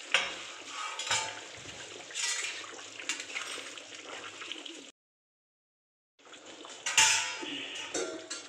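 Katla fish heads dropped one by one into a hot pan, sizzling and clattering against the metal with small splashes, close and fairly quiet, with a short silent gap midway.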